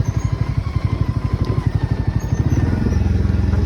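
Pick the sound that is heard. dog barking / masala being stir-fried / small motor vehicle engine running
small motor vehicle engine running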